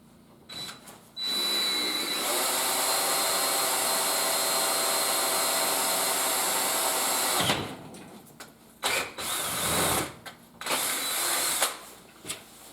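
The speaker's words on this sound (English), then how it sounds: "let's get us a drill and we'll drill down and tap those" A drill grinds steadily into metal on a South Bend 9 lathe for several seconds, then stops and restarts in short, uneven bursts.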